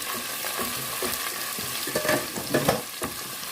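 Chopped onions sizzle and crackle steadily in about three to four tablespoons of hot oil, with a spoon stirring and scraping the pan now and then; close and fairly loud, and nobody speaks.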